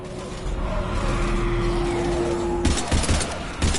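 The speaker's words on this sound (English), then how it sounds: "we're taking heavy fire" Heavy gunfire in the Mass Effect video game, with a dense rumbling barrage that gives way to sharp, loud bursts of shots near the end, alone without talk.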